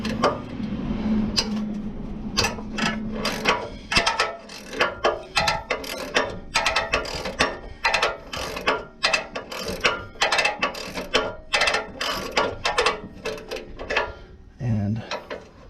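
A ratchet wrench turning a spinning through bolt on a Chrysler 300C exhaust, with repeated close clicking bursts in an uneven rhythm and a short low voice near the end.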